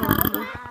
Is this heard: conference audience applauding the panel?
no